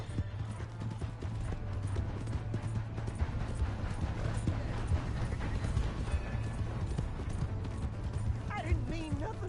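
Hooves clip-clop in a quick rhythmic gallop in Red Dead Redemption 2, close and continuous, with a horse whinnying briefly near the end, over a low background hum.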